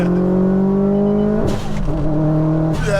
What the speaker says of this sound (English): I'm going to try a rolling launch now